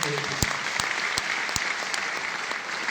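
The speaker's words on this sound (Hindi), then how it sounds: "एक बार जोरदार ताली दीजिए" Audience applause at a victory resolution celebration event in Varanasi, a steady wash of many hands clapping with a few sharper claps standing out, sustained for several seconds.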